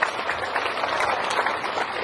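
Steady, dense audience applause at a campaign gathering in Karimun, many hands clapping continuously at a moderate distance with no voices standing out.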